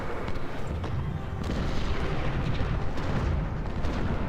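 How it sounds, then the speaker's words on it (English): Artillery fire in the Union Civil War strategy game Ultimate General, a dense low rumble of booms that rolls on continuously at a strong, steady level. "Why are you firing on me, my own artillery?"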